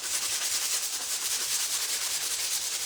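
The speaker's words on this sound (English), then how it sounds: "I'm gonna take my little sander" A continuous, hissing buzz of an electric sander grinding against a surface, steady and close throughout.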